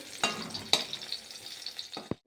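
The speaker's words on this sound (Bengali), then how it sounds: "বেগুন ভাজাটা প্রায় হয়ে এসছে এবার একদমই ভাজা হয়ে গেছে" Eggplant frying in oil in a wok gives a steady, close sizzle, broken by a few sharp clatters of the spatula and one last knock before it stops.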